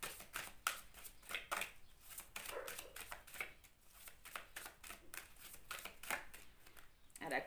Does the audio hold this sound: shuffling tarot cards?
yes